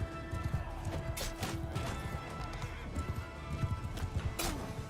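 Horse hooves galloping in the Bannerlord medieval battle game, a quick, rapid clip-clop rhythm with scattered clashes and thuds of battle underneath, moderately near.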